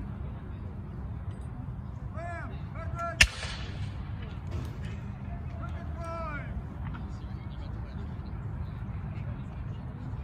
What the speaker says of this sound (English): The little one over here is a swivel gun, and it's a 1-inch swivel gun.